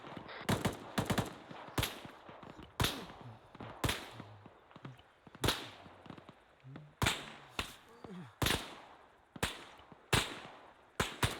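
Irregular single gunshots crack out in Arma 3 combat, sharp and fairly loud, spaced a second or two apart across the scene with faint background rumble between shots and no talk over them.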